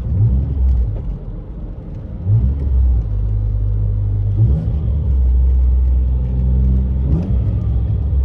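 A Ford Mondeo ST220 revs on a city street in Sofia, its engine rumbling low and steady with repeated throttle blips and swells, loud and close, with no talk over it.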